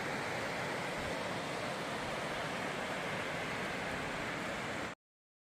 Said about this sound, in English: Laurel Creek looks amazing with all the white caps in there